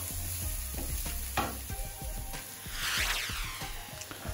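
Chopped onions frying in a pan for prawn biryani, a steady close sizzle with repeated stirring scrapes and clanks, the hiss swelling louder partway through.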